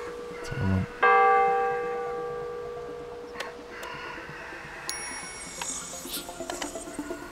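A church bell in the video game Dordogne strikes once loudly and rings out in a long fading hum, followed by lighter chimes and ambient tones.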